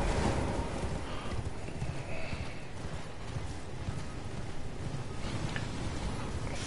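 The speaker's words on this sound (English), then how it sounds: "I'm gonna horse it on out of here." A horse gallops in the video game Elden Ring, a rapid, continuous drumming of hooves alongside a steady game-world wind, moderately loud and without any talking.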